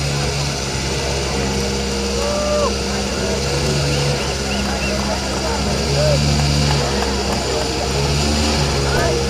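A rally car engine at the WRC Safari Rally Kenya 2026 flag-off idles steadily and loudly up close, a lumpy rumbling note with faint background chatter around it.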